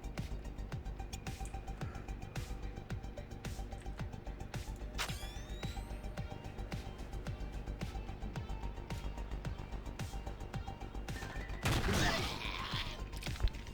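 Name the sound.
gunfire from an enemy's gun in the video game Stellar Tactics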